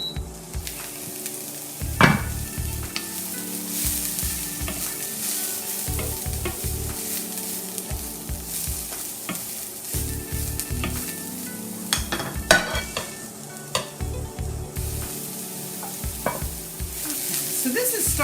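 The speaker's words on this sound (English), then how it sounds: "I'm just stirring to kind of coat it all with our cooking oil" Veggie slaw vegetables sizzle and fry in cooking oil while a utensil stirs them, scraping and clinking against the pan at irregular intervals over a steady, close hiss.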